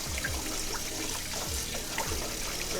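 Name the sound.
rinsing rice with water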